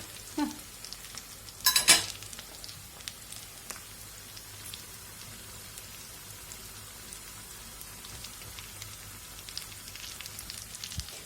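Potato fritters fry in plenty of oil, giving a faint, steady crackling sizzle with scattered pops and a brief louder stir or clatter early on.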